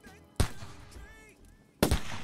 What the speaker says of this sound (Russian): Сейчас один выстрел сделаем.